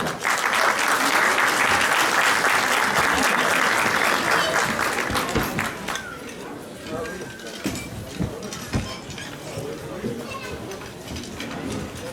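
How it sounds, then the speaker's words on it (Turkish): A crowd at an iftar dinner applauds loudly and steadily for a mayor, then the clapping fades into scattered claps and murmuring voices. "Alkışlarınızı."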